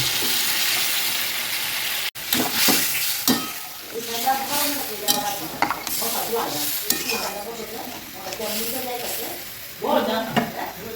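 A home-cooked fish curry pan carries a steady sizzle alongside repeated utensil scraping and clinks, with a voice talking intermittently over the cooking sounds.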